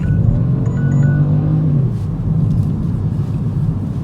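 A 2018 Kia Stinger's engine hums steadily while driving, a low continuous rumble with a brief higher whine near the start.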